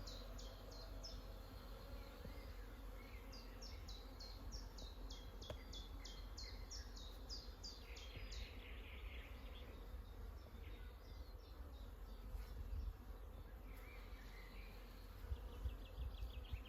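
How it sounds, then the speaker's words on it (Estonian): Honeybee swarm out in the open in spring, a steady dense buzz of many bees holding throughout, with occasional bird calls chirping over it in the background. "siin on jah päris korralik süle, mesilased kusagilt tulnud."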